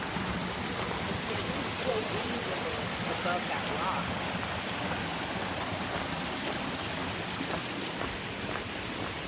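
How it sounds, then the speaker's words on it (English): Water streaming down rocks at a waterfall in Uvas Canyon, a steady, broad rushing wash that runs unbroken from start to finish, with people talking briefly over it. "All that water streaming down."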